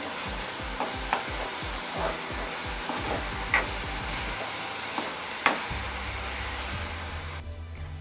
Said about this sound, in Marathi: कांदा आपला लाल होईपर्यंत परतून घेऊया।